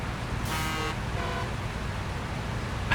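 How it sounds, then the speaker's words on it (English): A truck horn in the Snowrunner game gives a short, flat honk over a steady rumbling engine, followed later by a second weaker toot, all under continuous vehicle drone. "It's such a short and shitty horn."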